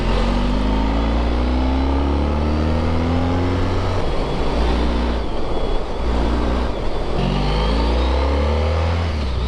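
A Honda ST1300 motorcycle engine roars close and loud on a twisty road, pitch climbing in repeated sweeps as it accelerates, with brief dips between gear changes and steady wind rush underneath.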